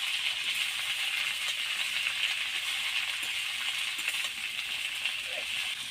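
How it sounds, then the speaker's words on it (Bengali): Malabar spinach leaves frying in hot mustard oil in a wok, giving a steady, loud sizzle with faint scraping and rattling as they are stirred, no voices. "এবার একটু নেড়ে নেব।"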